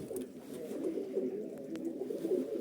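Pairs of yellow male and female cage birds coo softly in a steady low murmuring stream, fairly faint and close, with no talk.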